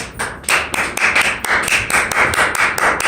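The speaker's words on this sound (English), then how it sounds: "Big round of applause." An audience claps in welcome for a stand-up comedian at a live showcase, with a run of quick, loud, fairly regular claps and no talking over it.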